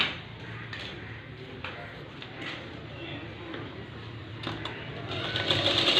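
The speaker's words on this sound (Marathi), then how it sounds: "इथे पाव इंचाची शिलाई मारून घ्यायची" A sewing machine stitches a quarter-inch seam on a blouse, its fast mechanical whir running steadily and close, with a few clicks and a burst of faster stitching near the end, while a voice talks underneath.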